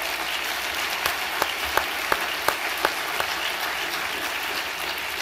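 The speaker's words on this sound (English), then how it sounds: "There should be applause" Steady audience applause at a Values Voter Summit panel on marriage, a dense continuous wash of clapping from a large room, with a few sharper individual claps standing out, and no speech over it.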